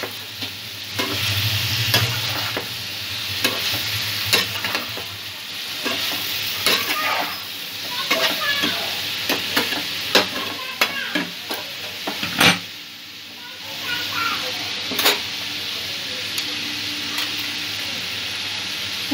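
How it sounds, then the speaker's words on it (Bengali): Ground coriander, cumin and chili powder are stirred and fried with young jackfruit in a pan. A loud, continuous sizzle is broken by repeated scraping strokes of a spoon and a few sharp knocks against the pan. "মশলাগুলো একটু ভালো করে মিক্স করে নেব।"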